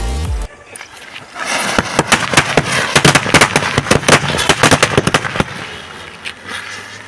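Dozens of firecrackers set around a ground spinner burst in a rapid, irregular volley of sharp cracks and bangs, loud and close, lasting several seconds before thinning out.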